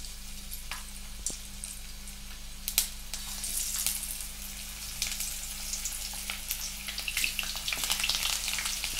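Chicken pakodi dropped into hot oil, a dense bright crackle and sizzle that holds steady and grows busier toward the end, with a few sharper pops along the way.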